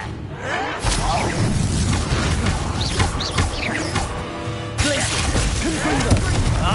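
A Confringo explosive spell blasts in Hogwarts Legacy amid a busy battle mix of whooshes, crashes and booms, with game voices talking throughout.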